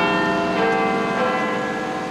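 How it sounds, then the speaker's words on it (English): Big Ben's great bell in London's Westminster clock tower rings out a loud, sustained chime with rich, lingering overtones that fill the whole stretch without any talk. "Big Ben chimes"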